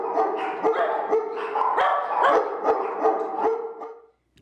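Several dogs bark at an unlicensed dog breeding facility, a loud, busy chorus of overlapping barks and yips close by that continues steadily before cutting off abruptly.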